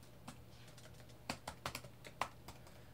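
Keystrokes on a computer keyboard, a sparse scatter of soft clicks with a few louder taps near the middle, heard close against a quiet room hum with no talking.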